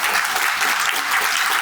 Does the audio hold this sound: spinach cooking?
no